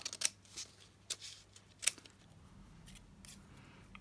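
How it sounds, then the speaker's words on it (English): Scissors snip through scrap paper pieces to cut out a small rectangle, several short sharp cuts spaced irregularly, close and fairly quiet with no talking. "I want to cut a little rectangle."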